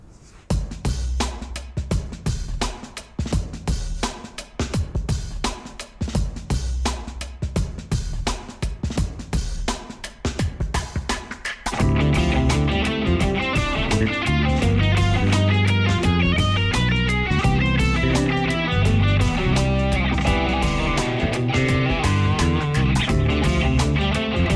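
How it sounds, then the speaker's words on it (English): Fast electric guitar fusion lick, sequenced fourths and thirds, every note picked with no legato, first played alone as a bright, rapid run, then repeated at speed over a full backing track with drums and bass. "All picked, no legato in this one at all. Sounds like this, up to speed with the track."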